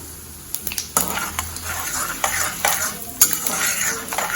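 Chana dal, urad dal and fennel dry-roasting in a pan, with a spoon scraping and stirring in irregular bursts over a soft background sizzle, close and fairly loud, with no voices.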